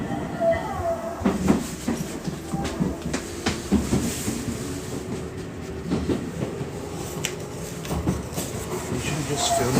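A train rolls along rails with steady rumbling and repeated clickety-clack wheel beats, loud and close throughout, heard from a train ride between Tokyo and Tochigi with some faint background noise.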